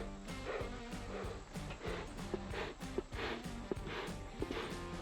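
Honeybees buzz around a hive being smoked with pine needles, a steady insect drone at moderate level with scattered knocks and handling clicks and no talk.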